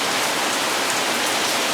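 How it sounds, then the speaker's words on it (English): Heavy rain pours down steadily around a Porsche 944 with an LS engine swap, a dense continuous hiss of drops close by with no breaks and no voices. "it's really pouring down rain"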